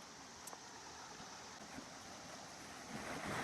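Steady rushing water from a waterfall at Gokarna, a broad, continuous roar with no voices, rising slightly louder toward the end.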